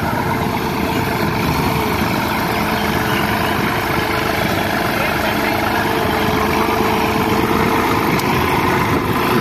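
Massey Ferguson 9500 tractor pulling a two-bottom plough through a wet field, its engine droning steadily and loudly at a constant low rumble with vibration, close by and uninterrupted for the whole stretch.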